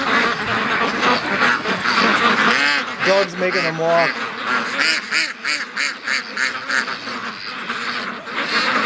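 A large flock of several hundred Muscovy ducks quacking and honking together in a yard, a dense continuous chorus with a person talking briefly over it.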